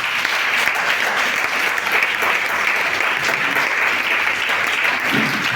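A Sunday church congregation applauds in praise during a French-language celebration service, a dense, continuous wash of many hands clapping at once, loud and sustained throughout with no pauses.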